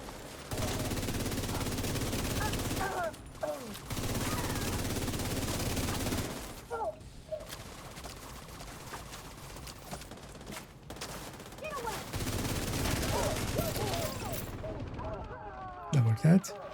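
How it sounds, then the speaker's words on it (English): Heavy, sustained gunfire rattles in long loud bursts with brief pauses between them, and voices speak at moments during the shooting. "Some shooting."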